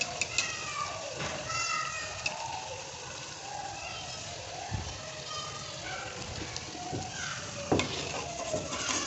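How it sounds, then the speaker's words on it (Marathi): A potato puri frying in hot oil sizzles and crackles continuously up close, with occasional stirring and splashing, while someone talks over it. "हे बघा, एक पुरी मी सोडून घेतली याच्यामध्ये. अशी एक साईड करून व्यवस्थित ह्याची परतून ह्याला फ्राय करून घ्यायचं मस्त."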